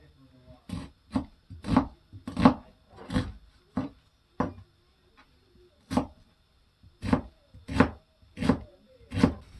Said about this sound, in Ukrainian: Я беру цибульку і дрібненько її ріжу.